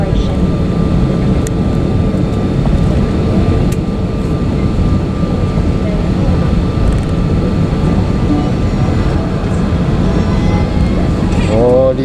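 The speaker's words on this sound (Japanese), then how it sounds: "離陸するな。" A Thai Smile airliner taking off from Suvarnabhumi Airport in Bangkok, heard from inside the cabin as a steady, loud broadband engine roar with a low rumble throughout, faint voices underneath.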